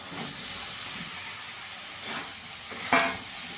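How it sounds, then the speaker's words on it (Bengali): Fried vegetables stirred into spiced oil with cooked-down masala for a niramish sabji, giving a steady hissing sizzle with occasional brief scraping stirs, close and moderately loud, without speech. "ভেজে রাখা সব সবজিগুলো দিয়ে দেবো"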